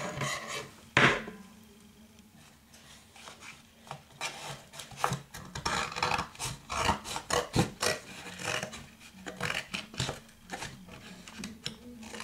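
Paper parts for a homemade Barbie doll bedroom craft being cut out, with irregular close scraping, snipping and rubbing sounds in bursts, fairly soft, with no one talking.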